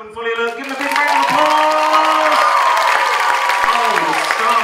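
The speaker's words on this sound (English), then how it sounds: "all this applause is for you" Audience applause at a hypnotist stage show at a community college, loud sustained clapping and crowd noise swelling after a brief start, with a voice and tonal sounds riding above it.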